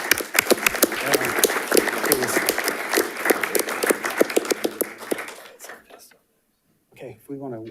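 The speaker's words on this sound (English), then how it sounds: "let's go ahead and give them a big round of applause" Board meeting audience giving a big round of applause, steady crisp clapping from many hands for about five seconds that dies out, followed by silence and then speech.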